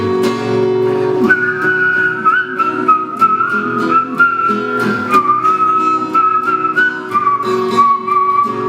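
An open mic night audience in Berkeley whistles a melody together over steady instrumental accompaniment, the sustained tune rising and falling continuously throughout.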